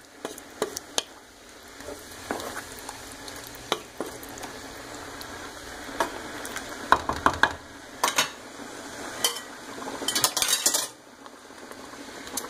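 A spoon scrapes and clinks around a pot of homemade tomato pasta sauce, steady stirring with soft sizzling and sharp metallic taps, close and fairly quiet, no voices.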